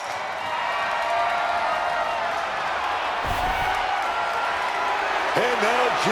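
A crowd roars steadily throughout a WWE 2K26 cage match, a continuous wash of cheering from a large arena audience with a heavy thud partway through.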